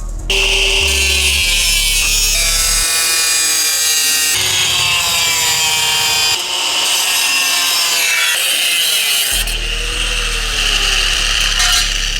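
A saw cuts through wood to shape a template while restoring a Honda CB7 motorcycle, giving loud continuous rasping strokes that run nearly the whole time with brief changes in pitch and pace.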